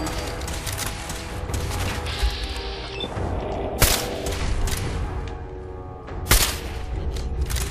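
Turret gunfire fills a Fallout 4 firefight, with dense bursts of shots, clanking mechanisms and a couple of sharp crashing impacts, loud and close throughout.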